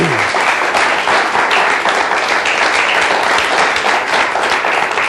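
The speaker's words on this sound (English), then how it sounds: "Let's give a warm round of applause for Mr. Loyd Auerbach." Loud, dense audience applause in a lecture hall for paranormal investigator Loyd Auerbach, a continuous wash of clapping that holds steady throughout.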